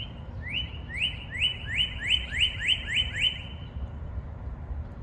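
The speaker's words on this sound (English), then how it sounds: "you hear how loud that is? You can hear that all over the block. That chirp." A loud bird chirps repeatedly outdoors on a city block, a rapid series of about eight rising calls in a quick burst, standing out against steady low background noise.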